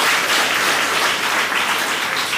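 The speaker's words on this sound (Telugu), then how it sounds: "చప్పట్లు కొట్టి దేవుని స్తోత్రిస్తాం" A church congregation claps together at a church anniversary service, giving steady, dense applause that holds at the same level for the whole stretch with no voices over it.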